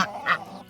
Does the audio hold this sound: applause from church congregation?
no